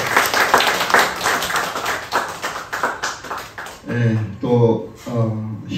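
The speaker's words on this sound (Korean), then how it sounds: "감사의 박수를 해주시기 바라겠습니다" Church congregation at a Wednesday mission service clapping in thanks, a burst of hand claps under rising noise, giving way to sung or spoken voices near the end.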